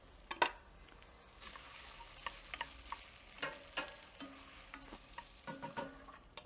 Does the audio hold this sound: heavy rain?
no